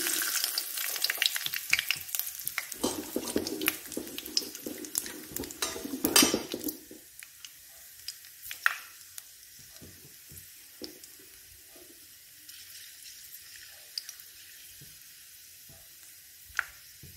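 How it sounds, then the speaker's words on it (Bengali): Panch phoron, dried chili and bay leaf hit hot oil for a fig curry, giving a loud crackling sizzle for about six seconds. It then drops to a faint hiss with occasional utensil clinks and taps. "তেল গরম হয়ে গেছে, আমি 5 ফোড়ন শুকনো লঙ্কা তেজপাতা দিচ্ছি।"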